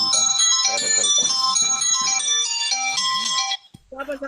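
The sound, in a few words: phone ringtone for incoming call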